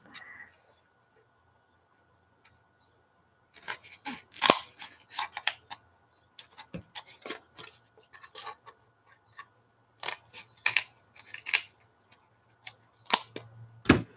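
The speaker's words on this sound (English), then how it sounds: "Let me cut that in half." Scissors cut craft foam for making stamps with a run of crisp, close snips in irregular bursts, separated by quiet pauses.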